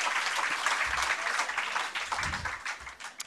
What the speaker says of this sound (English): clap your hands together one more time for Mohammed Hanif